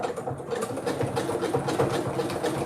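Sewing machine running steadily during a quilted pumpkin project, a close, continuous mechanical whirr with fast rhythmic needle clatter and no pauses, heard alone.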